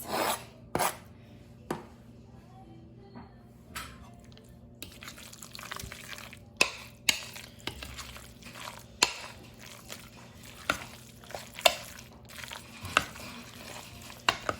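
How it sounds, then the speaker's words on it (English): Keto lunch mixture with chopped green onions being stirred in a bowl: close, scraping and rubbing strokes with soft wet clicks, recurring at an uneven rhythm against a quiet kitchen background. "Mix it really well."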